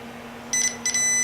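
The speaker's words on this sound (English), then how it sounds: "I have my multimeter on continuity. Put my probe together, you can hear that beep hopefully" A multimeter set to continuity, with its probes touched together, gives two short, clear, high-pitched beeps a moment apart over a faint steady hum, close and fairly loud.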